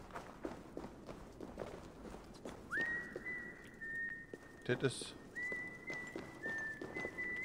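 Assassin's Creed Valhalla whistle: two long steady whistled tones, the second after a short break, over running footsteps and hoofbeats in the game, with a brief spoken remark in between.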